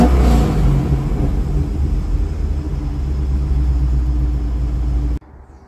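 A Corvette idles while warming up, a steady deep rumble close by with a faint whir on top that holds for about five seconds before cutting off abruptly, leaving quiet.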